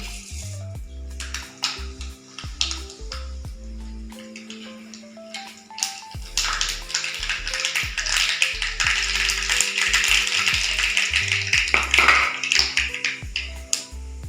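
Mustard seeds crackle and pop in hot coconut oil, with sharp irregular ticks and snaps that grow denser into a steady spluttering crackle, close and moderately loud over a constant background tone.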